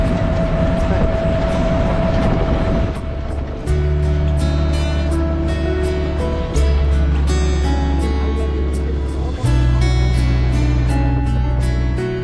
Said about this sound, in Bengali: আন্তনগর করতোয়া ট্রেন বুড়িবাড়ি থেকে 7টা যাচ্ছে